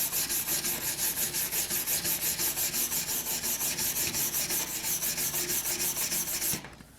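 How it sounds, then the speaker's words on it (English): A stainless steel wire brush scrubs rapidly back and forth across metal to clear contaminants before TIG welding, making a steady rhythmic rasping that runs loud and close for about six seconds before stopping abruptly. "we can take the stainless brush, and if there's anything loose on it, you can definitely get it off"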